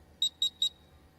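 Three short, sharp electronic beeps from a quiz buzzer at a school quiz final, evenly spaced about a fifth of a second apart, clear and alone over a faint hum.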